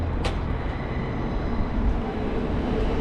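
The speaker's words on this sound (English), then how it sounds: "So here we go, we've got some trains coming over here." Trains passing in South Yarra, Melbourne, a steady, dense rumble of rail cars with a brief high squeal near the start, loud and close throughout.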